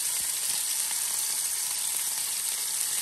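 Chicken fries in oil in a pan with a steady, dense, even hiss of sizzling from start to finish, with no talk over it.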